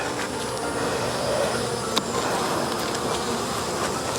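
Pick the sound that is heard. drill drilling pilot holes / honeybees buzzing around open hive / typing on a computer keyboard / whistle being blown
honeybees buzzing around open hive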